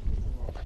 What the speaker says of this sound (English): Smith & Wesson 1911SC, a lot of recoil.